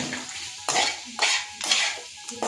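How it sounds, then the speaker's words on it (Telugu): Fried paneer pieces being stirred into curry in a pan, with three or four distinct scraping clatters of a spoon against the metal pan, close and fairly loud, separated by brief quiet gaps. "ఇవి కూడా ఒకసారి కలుపుకోవాలి."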